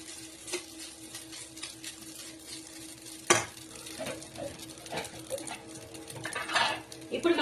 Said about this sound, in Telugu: సేమియా మొత్తం ఇలా వేసేసుకొని మంచిగా నేతిలో తిప్పుకోండి